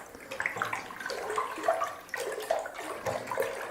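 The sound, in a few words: vigorously stirring Zinfandel wine must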